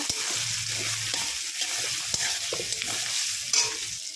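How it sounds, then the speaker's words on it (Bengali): A spatula stirs cumin and coriander powder into potatoes sizzling in a frying pan, close and steady frying hiss with scraping strokes and occasional clinks. "এবার একটু নাড়িয়ে নেব"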